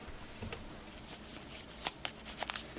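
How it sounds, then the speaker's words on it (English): A deck of exploration cards from a board game is given a quick shuffle, soft riffling with a few sharp snaps and clicks near the end, close and fairly quiet. "So we're just going to give the exploration deck a quick shuffle."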